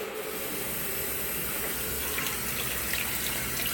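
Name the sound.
washing machine filling with water on deep fill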